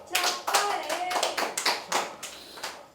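An audience at a Kannada film event breaks into scattered, uneven hand claps that swell and fade in quick bursts, with faint voices mixed in.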